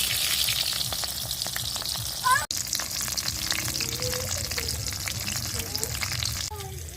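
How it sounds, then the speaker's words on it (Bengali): Fish paturi fries in oil in a wok with a continuous close sizzle and crackle, one sharp clatter midway as the pieces are handled, and faint scraping as they are turned. "কড়াইতে দিয়ে দিলাম একটু তেলের মধ্যে ফ্রাই করার জন্য।"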